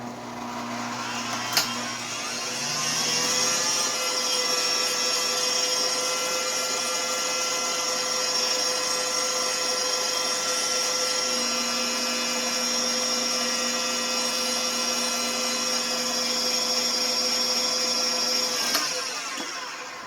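An electric hand mixer whirs steadily for about fifteen seconds, creaming sticks of butter for a peanut butter cake, with a sharp start click near the beginning and a stop at the end, loud and close with no talk.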